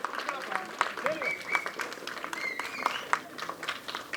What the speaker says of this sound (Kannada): ಜೋರಾಗಿ ಒಂದ್ ಚಪ್ಪಾಳೆ ಬರ್ಲಿ ನೀವ್ ಎಷ್ಟ್ ಜೋರಾಗಿ ಚಪ್ಪಾಳೆ ಉಳಿದಿರೋ